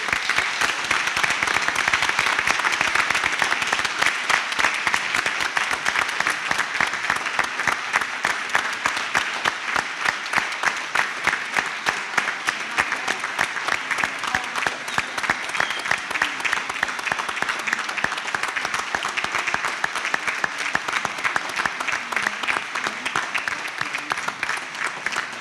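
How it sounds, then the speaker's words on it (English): Sustained applause from a room full of people celebrating graduates at a 2021 graduation ceremony, dense steady clapping that holds evenly for about twenty-five seconds without a break. "give them a fantastic round of applause"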